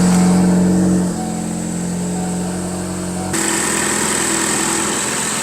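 Ford Focus ST engine running after radiator and heater hose work: a steady, close engine hum that settles from a higher pitch to a lower idle, then picks up again, with no talking.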